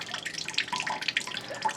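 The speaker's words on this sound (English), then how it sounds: "let it drip out the remaining, and then shut the faucet here" A household faucet drips out the last of its water after well-tank pressure runs out while plumbing is drained for winter, giving quiet, scattered drips and a faint trickle close by with no talking.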